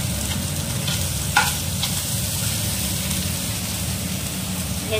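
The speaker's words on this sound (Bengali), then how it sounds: "ভেজে নিচ্ছি অল্প করে পেঁয়াজ" Onions fry in a small amount of oil with a steady, close hiss and crackle, one brief clink near the start and a faint murmur underneath.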